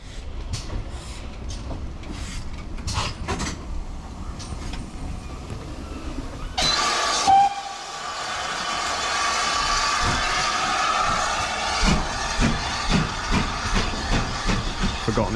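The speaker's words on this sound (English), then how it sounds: "just in time to see the loco run around to the other end of the train." GWR 52xx steam locomotive Goliath running around its train at Kingswear station on the Dartmouth Steam Railway, with a steady steam hiss and rail clatter, a sharp burst mid-way, then a broad loud hiss with rhythmic clanks.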